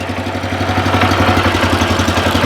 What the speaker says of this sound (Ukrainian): Дивіться, наскільки легко, тихенько і працює сам двигун.